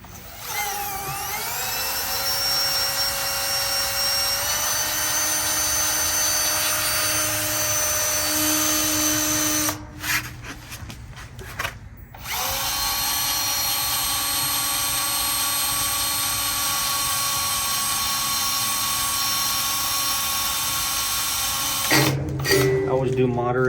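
Power drill with a small bit boring into a car hauler trailer during rewiring, whining steadily at high speed, briefly stopping and restarting, loud and close.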